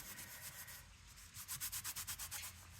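Thick lunar paste is rubbed off a surface in rapid back-and-forth strokes, a scratchy sanding-like rasp that starts softly and settles into a quick, even rhythm of about a dozen close strokes.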